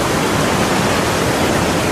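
Steady, loud rush of falling water, a dense broadband roar that stays constant without pause, at nearby Sprite Falls in Majayjay, Laguna.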